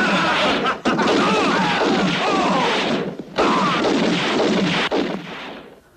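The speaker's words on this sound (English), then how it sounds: "Sounds like shooting." Gunfire from a western film scene: loud, dense bursts of shooting rage almost nonstop, broken by a few brief gaps before fading at the end.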